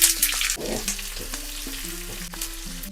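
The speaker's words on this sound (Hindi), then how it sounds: "प्याज को पिंक होने तक भूनेंगे।" Sliced onions sizzle and fry in a hot pan with garlic and ginger, a steady crackle broken by a few clinks and scraping stirs of a utensil.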